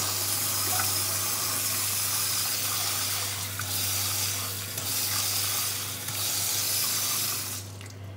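Tap water runs steadily from a laboratory faucet fitted with a side hose acting as a vacuum aspirator for a filtration flask, a constant broadband rush with a low hum beneath, cutting off near the end.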